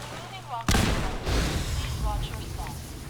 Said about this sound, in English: Oh, I threw a grenade at him?